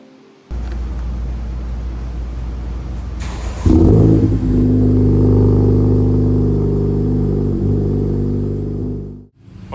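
A Honda Civic Type R FL5 engine cranks and catches on a cold start, flaring loudly before settling into a steady, strong high idle with a deep droning hum, then cutting off abruptly at the end; close and loud, no talk.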